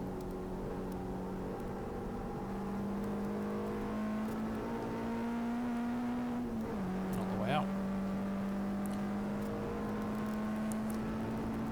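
On board a Peugeot 106 race car at Goodwood Motor Circuit, the engine drones steadily, dips sharply under braking, then picks up again, with a faint whir over it throughout.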